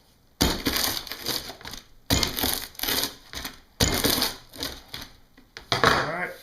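Big knife chopping down through a Chicago-style deep-dish pizza, cutting it into squares: loud crunching slices in bursts of about a second or so, separated by short pauses, with someone talking briefly.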